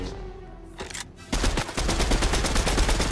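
Rapid automatic gunfire from a video game bursts in after a quieter opening and rattles on in a fast, loud, continuous stream of shots.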